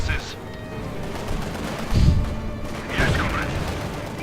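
Light machine guns fire in the real-time strategy game Company of Heroes 2 as short bursts of gunfire and booms, under a caster's continuous commentary.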